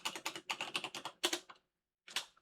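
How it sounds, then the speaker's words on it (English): Quick bursts of keystrokes on a computer keyboard enter a password into a Windows virtual machine login. The presses are close and crisp, with a short pause and then a final couple of strokes. "And then we'll type in a secret password."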